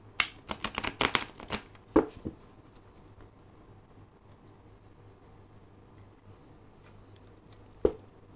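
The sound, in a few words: tarot cards being shuffled and drawn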